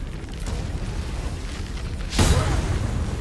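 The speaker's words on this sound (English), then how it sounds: "Missed with the booming blade, that's fine." A booming blade spell attack lands in the video game Baldur's Gate III, a single sudden burst about two seconds in, then a rumbling tail over a low ambient bed.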